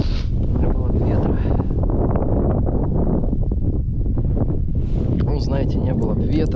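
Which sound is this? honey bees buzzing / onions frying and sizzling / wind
wind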